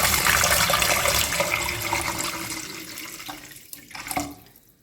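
Yakhni stock pours into Manchow soup in a cooking pot, a loud steady gush that slowly tapers to softer splashes and trickles, close and without talk.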